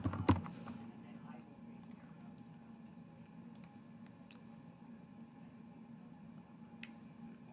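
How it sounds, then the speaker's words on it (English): Typing a name on a computer keyboard, soft faint keystrokes ticking irregularly over a steady low hum of room noise, with one louder knock near the start. "I'm going to type my name in here"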